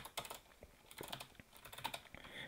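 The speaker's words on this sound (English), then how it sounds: "when I start typing" Someone types on a computer keyboard while filtering a list of names, producing a quiet, close run of light, irregular key clicks with brief pauses.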